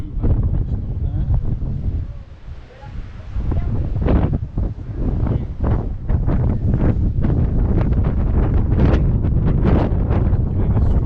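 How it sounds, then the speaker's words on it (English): Strong wind buffets the microphone continuously and loudly on a seafront at Palmanova, Mallorca, gusting in heavy rumbling bursts throughout, with someone talking faintly underneath. "Getting a strong wind again, it really is blowing."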